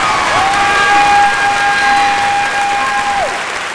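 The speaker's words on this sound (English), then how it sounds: "Ladies and gentlemen, a nice round of applause for all of our top 10 semifinalists." A crowd at a 2003 state beauty pageant applauds and cheers energetically, a loud wash of clapping with a long sustained whistle-like tone and shouts running over it.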